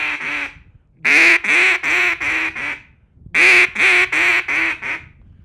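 Two bursts of loud duck-call quacks, each a quick string of four or five single raspy quacks with short gaps between, close and clear.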